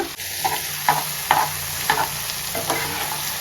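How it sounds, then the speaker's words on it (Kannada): Crab masala gets stirred in a hot pan, a spoon scraping through the thick sizzling masala in repeated strokes roughly every half second, close and clear. "ಚೆನ್ನಾಗಿ ಕ್ರ್ಯಾಬ್ ಒಳಗಡೆನೂ ಮಸಾಲ ಹೋಗಬೇಕು, ಆ ರೀತಿ ಮಿಕ್ಸ್ ಮಾಡ್ಕೊಳ್ಳಿ."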